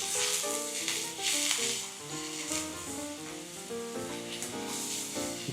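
Butter, shallot and mushrooms sizzle and crackle steadily in a hot pan, a close frying hiss that runs throughout with faint stirring, while music with a plucked melody plays along underneath.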